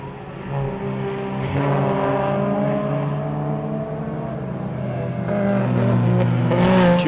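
Race cars, including an Opel Corsa alongside a Polo and a Honda Ballade, lap Zwartkops Raceway, engines revving loud and close in a continuous rising, shifting whine that swells again near the end.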